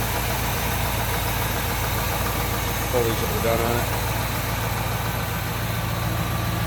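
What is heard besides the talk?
350 small block Chevy V8 idling in 1964 El Camino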